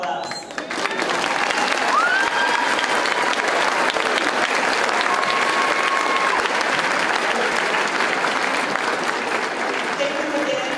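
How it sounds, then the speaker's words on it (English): Concert audience applause in a school gym at a Hermiston School District music concert, a dense, steady crowd clapping that swells in within the first second and holds loud throughout, with faint cheers and voices. "How about a round of applause for all of us?"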